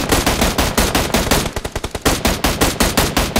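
Rapid automatic gunfire from a shooting video game, loud and close, coming in quick repeated bursts with short choppy shots in the middle, with no voices.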